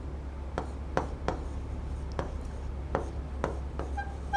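Chalk or marker taps and strokes on a classroom board as an equation is written, coming as a series of short sharp marks at an uneven pace over a low steady hum, with no talking.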